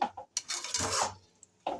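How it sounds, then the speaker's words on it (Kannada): A spoon scrapes and clatters against a pot as ground masala is stirred into chicken curry, in a few separate bursts of stirring with short pauses between them. "ಮಸಾಲೆನ ಎಲ್ಲ ನೀಟಾಗಿ ಮಿಕ್ಸ್ ಮಾಡ್ಕೊಳ್ಳಿ."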